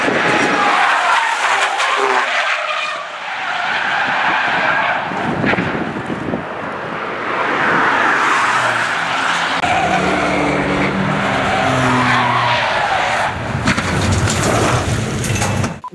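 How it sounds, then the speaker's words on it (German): A Renault Megane 3 RS with added aero on a track, its engine roaring close and loud as the tires squeal and skid through lift-off oversteer, rising and falling over the run with no talk. "Stichpunkt Liftoff Oversteer."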